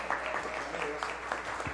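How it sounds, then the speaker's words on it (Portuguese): Audience applause at a women's forum, a steady wash of clapping from a seated crowd throughout, moderately loud with a few sharper individual claps standing out. "Merece o aplauso."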